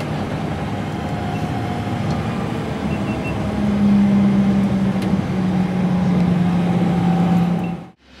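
Steady engine hum and rumble from inside a moving bus, a low drone rising slightly midway before cutting off abruptly at the end.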